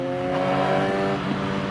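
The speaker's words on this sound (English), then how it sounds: "Engine braking is average" A 2021 Suzuki Katana motorcycle engine braking while riding downhill at night, a steady loud droning engine note with harmonic tones and wind rush throughout.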